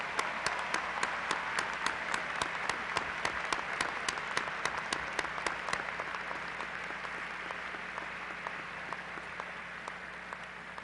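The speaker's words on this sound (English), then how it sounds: "Will you please stand for a well-deserved round of applause?" A sustained round of applause for graduates at a 2008 graduation ceremony, steady dense clapping from a large standing crowd with sharp individual claps, gradually softening over about ten seconds.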